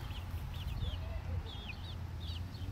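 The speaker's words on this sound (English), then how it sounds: "I've got a little chicken down there." Chickens cluck softly in a yard, several short rising calls repeating at intervals over a steady low outdoor rumble.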